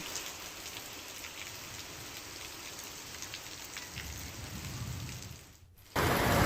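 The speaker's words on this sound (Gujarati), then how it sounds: "ધારી ગીરના ગ્રામ્ય વિસ્તારોમાં ભારે પવન સાથે ધોધમાર વરસાદ પડ્યો।" Heavy rain pours down with strong wind over rural villages in the Gir area, a dense, steady hiss of drops that swells louder toward the end, with no voices.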